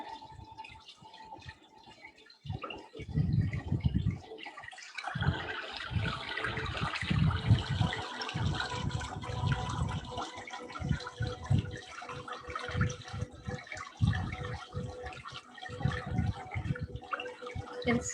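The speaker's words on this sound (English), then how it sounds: "I hope you can hear the beautiful sound of the chakra, of the water." Water flows and splashes continuously, a soft rushing stream with gurgling bubbles, steady and fairly close, with no voices.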